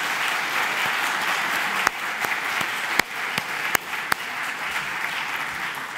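An audience applauds a speaker being introduced, steady sustained clapping throughout with a few sharper individual claps standing out near the front.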